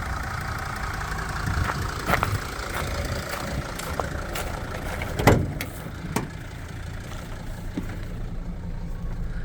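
A 2005 Mercedes Sprinter 416 tow truck with a flatbed and automatic gearbox idles steadily nearby, its engine running smoothly under a few faint clicks and knocks.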